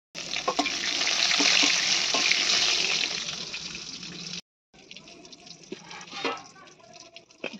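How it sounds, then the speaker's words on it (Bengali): Tomato and eggplant sizzle steadily in hot oil in a Bengali home kitchen, a loud continuous fry that cuts out briefly and resumes quieter with a few clinks and stirs. "ওই তেলের মধ্যে দিয়ে দিলাম টমেটো আর বেগুনটা, এটা একটু ভেজে নেব।"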